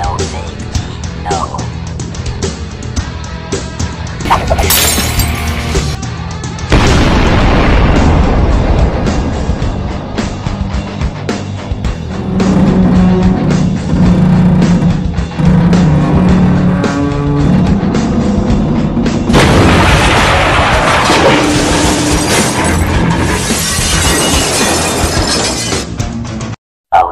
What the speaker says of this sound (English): I didn't mean to destroy my entire Eiffel Tower